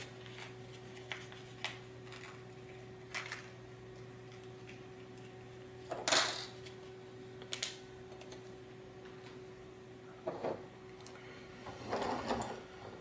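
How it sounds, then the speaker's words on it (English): Small metal bolts and nuts are taken out of a robot kit bag, giving faint scattered clicks and rustles with a few louder crinkles over a quiet, steady background hum. "I will go ahead and take out 2 bolts and 2 nuts."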